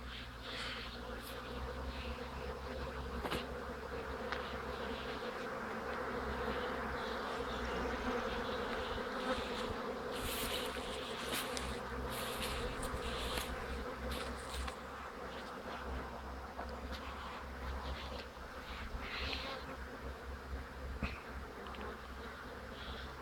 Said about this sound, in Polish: Tu te pszczoły też już sobie ładnie doszły.